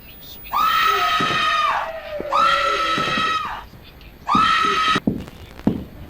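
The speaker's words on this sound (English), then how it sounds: "When she spots you, she starts screaming at the top of her lungs," The wheelchair-bound lady in a horror video game screams at the top of her lungs in three long, shrill, sustained wails, loud and close, separated by brief pauses, with the last one cut off abruptly.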